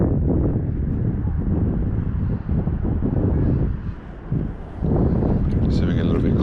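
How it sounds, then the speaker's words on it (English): Gusty wind buffets the microphone on a kayak on the water near the shore, a loud rumbling roar that dips briefly twice, with a voice partly under it. "There's a little bit of wind, this unexpected wind."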